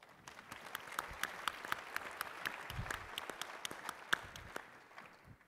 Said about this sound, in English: Will you join me in a round of applause to thank them?